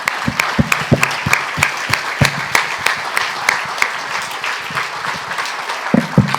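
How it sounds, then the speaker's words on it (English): An audience at a compliance forum claps as the event closes, loud and close. Sharp individual claps stand out in an irregular rhythm over a lighter bed of applause from the crowd. "round of applause to you"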